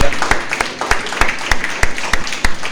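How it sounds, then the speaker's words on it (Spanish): Church congregation giving a round of applause to God, a close burst of irregular hand claps with sharp individual slaps over a busy background. "¿Cuánto le da un aplauso a Dios por lo que estaba en vitrina?"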